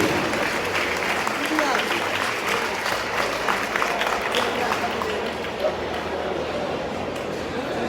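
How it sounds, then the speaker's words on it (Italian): Audience at a Veneto versus Toscana boxing bout applauds steadily while awaiting the verdict, a dense sustained wash of clapping that fades slightly toward the end. "Facciamo ancora un applauso a Dario Singh e a Luca Alberti."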